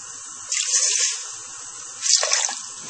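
Rice wine pours into a pot of Korean beef stew in two short, bright splashy bursts, close and clear, with a quiet pause between them and no talking.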